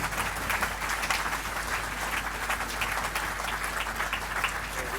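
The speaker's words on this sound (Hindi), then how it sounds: "मैं चाहता हूं एक बार जोरदार तालियों," Loud audience applause fills a celebration hall, a dense sustained wash of clapping from a large crowd for the full duration.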